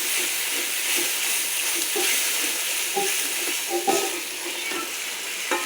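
Water hitting hot spiced oil in a pan sets off a loud, steady broadband sizzle and hiss with faint bubbling pops, close and continuous without talk.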